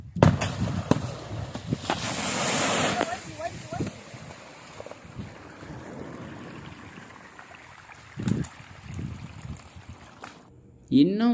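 An explosive charge set off inside a borewell gives a muffled boom followed by a rushing, hissing gush of water and debris, then trickling and later thuds, with people talking nearby.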